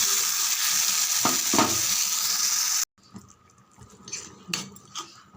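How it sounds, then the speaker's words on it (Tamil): Ground tomato paste sautés in a pan for a spicy chutney, loud steady sizzling with spoon scrapes, then a quieter stretch of softer frying and occasional utensil clinks. "இங்கே பாருங்கள், நல்லா வதக்கி விடுங்க."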